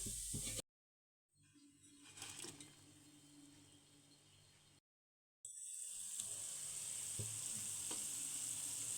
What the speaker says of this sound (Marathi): हे गुलाबजाम आपल्याला मंद आचेवरती तळून घ्यायचे आहेत